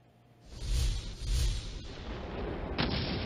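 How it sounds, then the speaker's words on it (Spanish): Staged explosions on a TV drama film set in Damascus, Syria, two deep booming blasts close together followed by a lingering rumble and a sharper crack near the end. "El ruido de las explosiones de rodaje confunde a los habitantes de Damasco"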